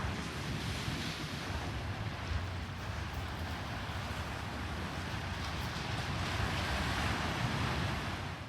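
Ocean surf rolling onto the New England coast with steady wind buffeting the microphone, a continuous loud roar of waves and gusts with no voices.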